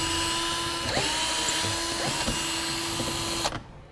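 A power drill spins out the four fender liner screws on a 2013 Cadillac SRX, its steady whine running for about three and a half seconds with brief pitch dips as each screw backs out, loud and close.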